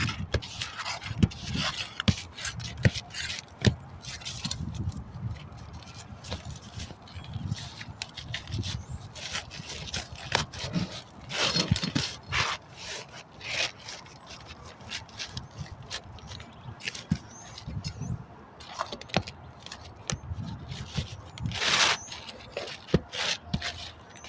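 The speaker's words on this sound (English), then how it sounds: "Now we're going to gently try to remove the shingle." A roof shingle is pried loose from its fasteners, giving quiet, irregular scraping and rubbing with scattered clicks and creaks at close range. No voices are heard.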